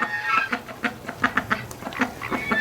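Ducks and geese in a winter pen give a run of short, repeated quacks and honks, fairly close and moderately loud, with several birds calling at once.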